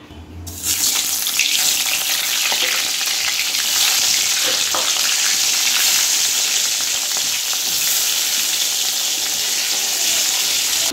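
Salted pointed gourd frying in hot oil gives a loud, continuous sizzle that starts abruptly and holds steady to the end, with no talking.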